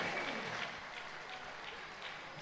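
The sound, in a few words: audience applause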